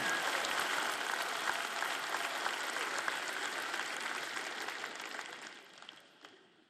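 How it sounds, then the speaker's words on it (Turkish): A large conference audience applauds in a broad, steady roar of clapping that slowly fades out toward the end, heard at a distance with no talk over it. "Sizler de alkışlıyor ve neşeleniyorsunuz."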